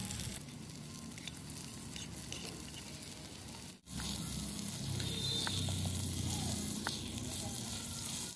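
Chicken pieces frying in a pan with chopped tomato, a soft continuous sizzle with faint crackles and a brief drop in the middle, quiet and close.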